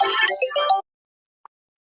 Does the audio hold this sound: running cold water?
no